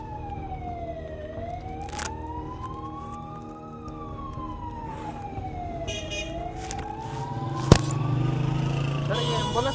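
An ambulance siren wails, rising and falling repeatedly at moderate distance, with traffic noise and people talking underneath, plus a sharp bang partway through.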